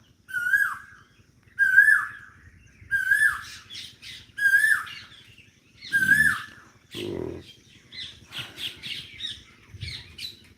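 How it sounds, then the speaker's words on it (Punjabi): A koel sings nearby, repeating its rising whistled call five times at even intervals, then a burst of rougher chirps and calls follows toward the end. "ਸੁਣਦੇ ਨੇ ਰਾਗ ਕੋਇਲ ਦੇ"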